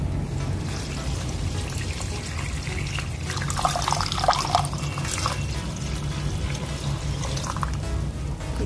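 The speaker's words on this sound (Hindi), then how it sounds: "3 गिलास हम इसमें पानी शामिल कर देंगे।" Three glasses of water pour into a pot for pulao, with a splashing, gurgling rush in the middle, over a low steady background rumble.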